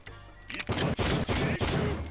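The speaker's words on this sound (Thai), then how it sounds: "ก็จะยิงปืนไปด้านหน้า 4 นัดนะครับผมนะ" Several rapid gunshots from a skill in Roblox A Universal Time, loud and close, sounding as a burst of sharp bangs in quick succession after a brief lead-in, with no talking.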